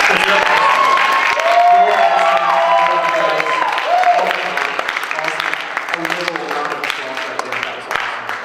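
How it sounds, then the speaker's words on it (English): A church congregation breaks into loud, sustained applause with some cheering and whoops, and a voice carries over it as tones ring beneath the clapping. "if you can give Chris and Bethany a round of applause, that would be awesome"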